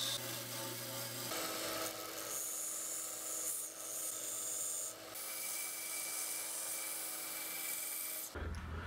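A wooden clipboard piece being cut out with a power tool, producing a steady, loud rasping and grinding drone that runs almost the whole time and ends with a change in pitch near the close.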